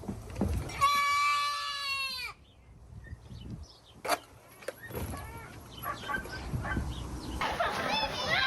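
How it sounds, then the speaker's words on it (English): A panicked goat that has just tripped lets out one loud, wavering bleat near the start, followed by quieter rustling, clicks and people talking. "This goat started panicking because he tripped and almost fell."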